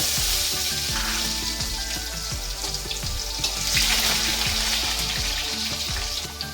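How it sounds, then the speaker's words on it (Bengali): Cut potatoes sizzling steadily in hot mustard oil with whole garam masala, bay leaves and dried red chillies, a loud, close, continuous frying crackle with faint stirring clicks and no voices. "এবার এতে আমরা কেটে রাখা আলু দিয়ে নেব।"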